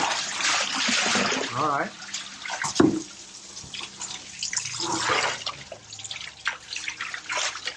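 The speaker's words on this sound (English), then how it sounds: "Next step in the process, we gotta wash it." Water splashing and running as grated-coconut material is washed by hand in rural Jember, Indonesia, a steady wet sloshing close by with someone talking briefly over it.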